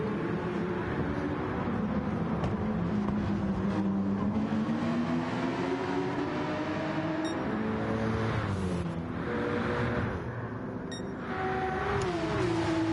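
Porsche 911 RSR race cars running down a long straight in a racing game, steady engine drone rising and falling in pitch through gear changes, continuous and moderately loud.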